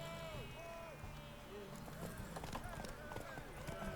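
Horse hooves gallop with a rhythmic clip-clop in The Witcher 3, faint beneath game music and a voice speaking.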